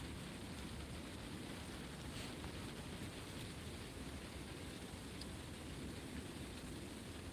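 Rain falls steadily during a severe thunderstorm in Pittsburg, Kansas, a dense, constant hiss of drops hitting surfaces close by, with no voices.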